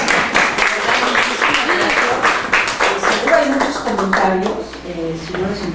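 An audience at a seminar on end-of-life decisions breaks into applause after the talk. Scattered, crisp hand claps run throughout, mixed with voices and laughter in the room.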